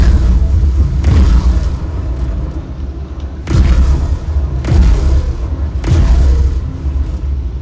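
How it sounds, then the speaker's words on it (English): Heavy booming shots from the guns of a red spaceship in a space game, three deep, loud blasts spaced a few seconds apart, each rolling into a low rumble. "That's a great sounding gun."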